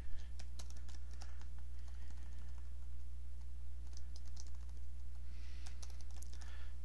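Typing on a computer keyboard while a local database connection string is edited, a steady stream of quick key clicks over a constant low electrical hum, fairly close and with no talking.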